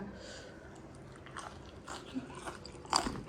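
Someone bites into crunchy battered fried tubtim fish, giving soft chewing and a crisp crunch near the end, close and fairly quiet against a faint room background.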